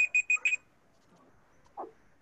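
A timer alarm signals that time is up with four quick electronic beeps at the start, followed by near silence and a faint stray sound.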